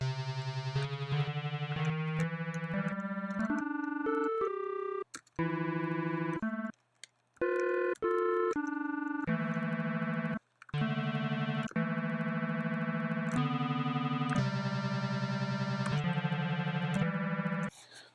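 Single-shot synth sample cut into slices with crossfade loops in Renoise, played as a choppy series of sustained looping tones shifting pitch, with brief gaps between some slices and no talking.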